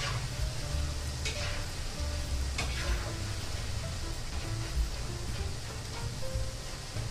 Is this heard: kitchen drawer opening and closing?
no